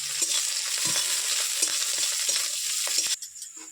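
Close, steady frying hiss with scraping stirs as spices fry with onion in a pan, cut short near the end to a quieter background.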